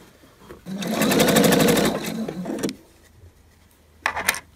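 A domestic sewing machine stitches across the neck of a long vest, a single steady motorized run of about two seconds with dense rapid needle strokes, then quiet, then a brief second burst near the end.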